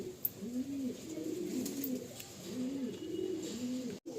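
Golden-eyed pigeons cooing in a steady run of soft, repeated rolling coos, close and clear, with no voices over them.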